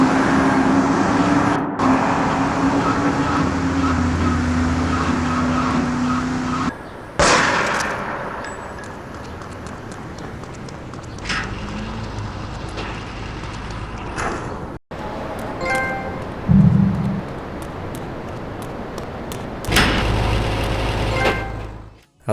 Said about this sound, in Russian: Все звуки в этих местах будут иметь эхо, будь то звук автомобиля или разговор.